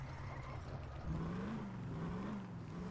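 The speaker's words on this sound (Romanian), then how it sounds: "îmi place foarte mult sunetul de pe V8" A V8 car engine hums low and steady at a distance, then rises and falls in a mild rev, with no talk over it.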